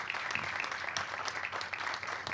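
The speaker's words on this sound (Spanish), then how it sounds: "Te recibimos con este aplauso" A welcoming round of applause at a CGT conference in Mar del Plata, moderately faint and steady, with many hands clapping continuously in an indoor hall.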